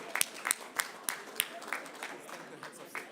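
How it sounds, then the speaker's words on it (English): At an Africa Day session, scattered claps ring out faintly in a sparse, roughly regular pattern rather than a full ovation, with talk in the room around them. "A big round of applause there"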